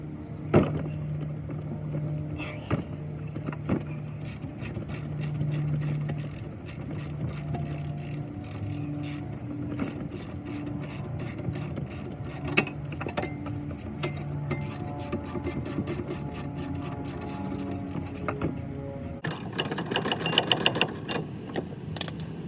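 Rapid ratchet clicking in repeated bursts while removing brake caliper bracket bolts on the rear brakes of a 2007 Hyundai Elantra, close and crisp with metallic taps between runs and a louder clattering flurry near the end.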